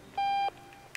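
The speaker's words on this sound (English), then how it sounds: "let me turn off this damn alarm first" An alarm in Octodad gives a single short, loud, clear electronic beep lasting about a third of a second, then a faint click follows.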